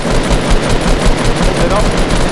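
Rapid automatic gunfire from a Fortnite duo-versus-squad match, loud and continuous for a couple of seconds, with excited voices talking over the shots.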